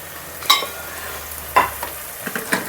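Ginger garlic paste frying in a pan for a mutton bone curry gives a soft sizzle, broken by a few sharp scraping stirs about a second apart, with no voices.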